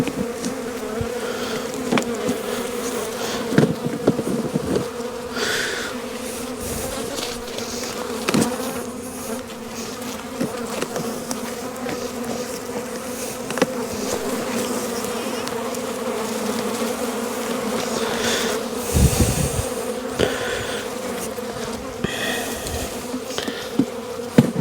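Honey bees buzz steadily around beehives in December, a close, continuous drone with individual bees passing near and occasional soft knocks and handling sounds, no talk.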